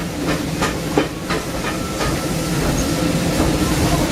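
Steam locomotive on the Disneyland Railroad, hissing in a steady broadband wash with faint rhythmic chuffing pulses underneath, continuous and fairly close, with no voices.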